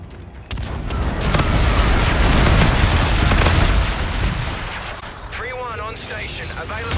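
Incoming missiles exploding in a video game, a heavy rumbling blast that builds and holds for a few seconds before fading, with radio-style voices talking near the end.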